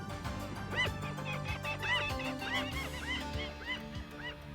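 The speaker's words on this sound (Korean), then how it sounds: "번식을 마친 새들이 새끼들을 데리고 강하구로 무리지어 날아온다" A flock of water birds, adults with their young after breeding, call together at the Nakdong River estuary, with a steady series of honking, goose-like cries at a middle distance.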